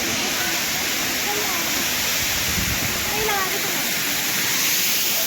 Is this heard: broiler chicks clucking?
no